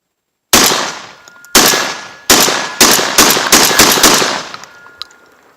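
A Mossberg 930 SPX semi-auto shotgun fires light Federal loads outdoors: about eight loud, sharp blasts, the first few spaced about a second apart, then quicker follow-up shots, each trailing off in a short echo.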